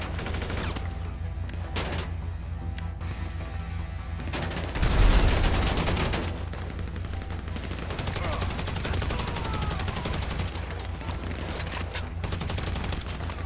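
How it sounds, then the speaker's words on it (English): Bursts of assault rifle fire in Grand Theft Auto V on Xbox One, loud, rapid and close, with a heavy boom near the middle over a constant rumble of game background sound. "It's an assault rifle."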